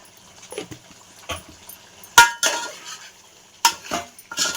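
Andhra-style country chicken curry stirred in a metal pot, with a few loud separate scrapes and clanks of a spoon against the vessel between quieter pauses, close and uneven.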